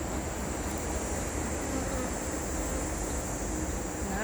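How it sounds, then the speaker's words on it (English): Dense, steady hum of honeybees swarming inside an open hive, a continuous buzzing drone filling the space at close range without pause. "Got lots of beautiful bees in there."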